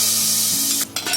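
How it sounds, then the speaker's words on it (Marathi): Hot tadka tempering is poured into a pressure cooker, giving a loud, close sizzle and spray with a faint metallic clink near the end. "आता तडका त्याच्यामध्येच मी कुकरमध्ये देते"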